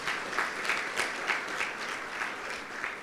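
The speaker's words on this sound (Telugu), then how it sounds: "చప్పట్లు కొట్టండి." A church congregation clapping hands together during a morning devotion service, a dense, steady round of applause with rhythmic pulses throughout, moderately loud and free of speech.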